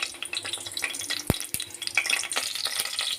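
Cinnamon, cloves and fennel seeds splutter and crackle in hot oil for a chicken dish, a quiet continuous sizzle with a couple of sharp utensil taps against the pan.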